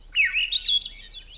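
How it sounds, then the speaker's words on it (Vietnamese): A baby bird chirps in one clear, continuous rising and wavering trill, close and fairly loud, with no voices over it. "Đó là tiếng của con chim non."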